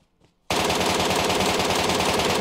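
An M4 rifle fires in PUBG Mobile, a sudden loud automatic spray that starts after a short quiet moment and keeps hammering rapidly to the end, with no speech.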